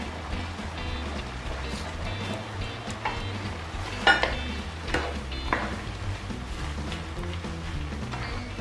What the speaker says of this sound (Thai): เดี๋ยวผัดให้หอมหัวใหญ่สุกสักพักก่อนนะครับ